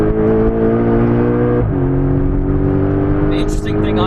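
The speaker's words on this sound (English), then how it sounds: "we're currently going round Kyalami racetrack in Johannesburg, South Africa, as fast as sport mode will let us" A Porsche 718 Boxster GTS lapping Kyalami racetrack in Johannesburg at speed in sport mode. The engine drones steadily near and loud, its pitch rising, dipping briefly at a shift, then climbing again, with someone talking over it throughout.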